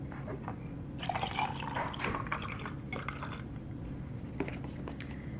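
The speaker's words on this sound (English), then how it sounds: "get a cup with ice, and we are going to add the hot water to the iced water" Hot steeped tea poured from a vessel into a cup of ice water for a low-calorie iced drink: a faint, splashy pour in bursts, strongest in the middle with a short final trickle, with no voices.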